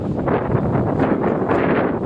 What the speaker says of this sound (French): Effectivement, il y a un peu de vent.